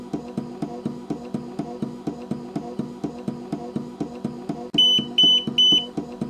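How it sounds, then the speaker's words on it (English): A steady train of rapid low mechanical pulses from a Freedom portable driver, then three loud high-pitched electronic missing-battery alarm beeps sound in quick succession near the end. "You'll notice that I'll get an alarm shortly after, telling me that I'm missing a battery in this well."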